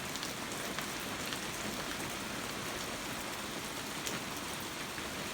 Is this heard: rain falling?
yes